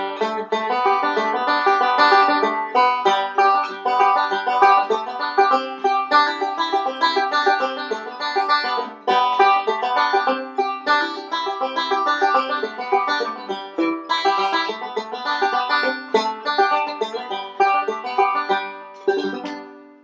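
Banjo picked in three-finger bluegrass style, working out the melody of a song with rolling picks around it, a bright, dense, continuous run of plucked notes alone for the whole stretch.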